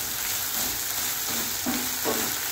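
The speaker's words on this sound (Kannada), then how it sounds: "ಇನ್ನೊಂದು ಎರಡು ನಿಮಿಷ ಫ್ರೈ ಆಗಬೇಕು" Ground hill gooseberry paste fries in a hot pan with a steady, dense sizzle that runs throughout. Light stirring scrapes can be heard over it, and there is no talking.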